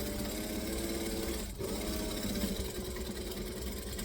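A sewing machine runs steadily as it back stitches the end of a seam, a close, continuous mechanical whir with one brief pause partway through before it resumes.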